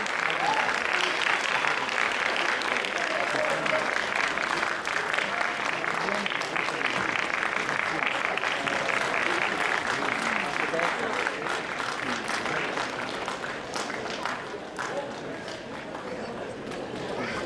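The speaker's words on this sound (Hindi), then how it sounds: "प्लीज जोरदार तालियां।" Loud, prolonged applause from a talent show audience at a grand finale, a thick continuous wash of clapping that carries on for many seconds before easing slightly toward the end, with voices mixed into the crowd.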